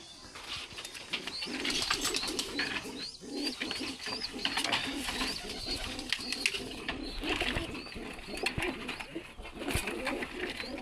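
Pigeons in a loft coo repeatedly in soft, throaty calls, layered and continuous at close range, with faint chirps and a few wing rustles mixed in.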